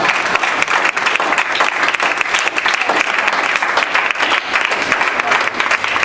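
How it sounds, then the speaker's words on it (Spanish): A church congregation claps in loud, sustained, dense applause throughout, with a few faint voices mixed into the crowd. "Dale un aplauso al Señor"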